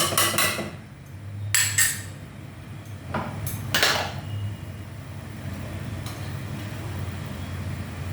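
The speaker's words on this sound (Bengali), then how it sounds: "তারপর একটু নাড়িয়ে দিলাম।" Kulthi (horse gram) dal stirred in a pot, with a few separate clinks and scrapes of a spoon against the metal, bursts of clatter broken by quieter gaps over a low steady hum.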